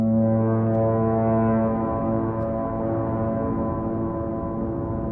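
A deep, sustained foghorn blast drones steadily for about five seconds, loud and resonant at first and then easing slightly, with no voices.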